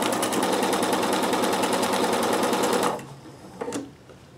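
A sewing machine stitching ribbon onto fabric runs in a loud, fast, even mechanical whir for about three seconds, then stops abruptly, followed by a brief click near the end.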